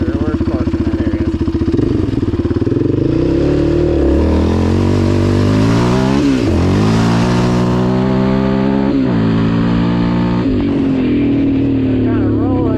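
A 2006 Yamaha Raptor 700 ATV engine revs hard on a second-gear launch on loose ground, loud and close, climbing and dipping in pitch through repeated surges over about thirteen seconds.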